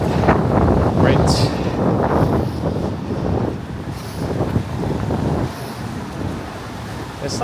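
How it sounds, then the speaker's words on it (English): Gusty wind buffets the microphone on a walk from Brooklyn to Manhattan over a New York bridge, a loud continuous low rumble with occasional swells throughout. "The wind's coming from all directions too."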